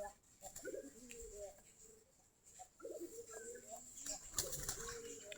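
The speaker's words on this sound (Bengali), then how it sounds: "সবগুলা দেশি গিরিবাজ কবুতর" Desi giribaz pigeons in a flock of several dozen birds at morning feeding give faint coos and wing flutters, scattered bursts of activity against a quiet background.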